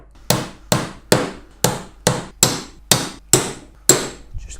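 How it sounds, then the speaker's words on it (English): Nail punch driving nails into a wooden Thorne top bar beehive frame, nine sharp, evenly spaced hammer taps ringing out close and loud, each one followed by a short decay. "I'm going to take my trusty punch, just punch these 2 in"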